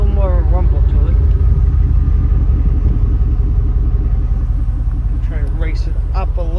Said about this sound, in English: Hope you can hear that exhaust.